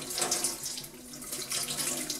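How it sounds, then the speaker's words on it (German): Steady running water from a tap rinses out a refillable Nespresso coffee capsule at a sink, a continuous close splashing hiss lasting throughout with no voices. "Aus diesem Grund muss die Kapsel zusätzlich mit kaltem oder warmem Wasser ausgespült werden."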